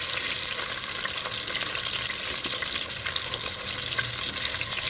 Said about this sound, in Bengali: তেলটা গরম হলে অল্প একটু লবণ দিয়ে প্রথমে আলুগুলোকে ভেজে নিতে হবে